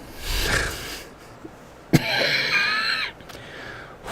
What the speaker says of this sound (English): I apologize for my coughing at this point.